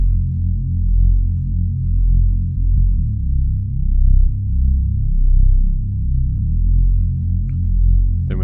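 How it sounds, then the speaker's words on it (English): A dry, unprocessed bass sound plays alone as steady, low, droning notes with a gently pulsing loudness and no effects. "Now let's hear the dry bass."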